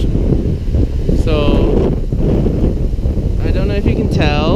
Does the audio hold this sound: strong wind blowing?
yes